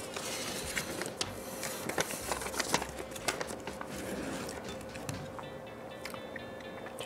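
A printer runs steadily at moderate distance, its mechanical whirring broken by irregular ticks and clacks, with a thin high whine near the end.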